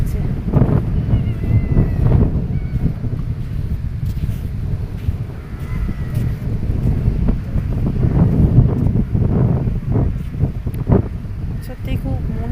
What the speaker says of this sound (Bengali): দেখো নারকেল গাছগুলো কত সুন্দর হাওয়া দিচ্ছে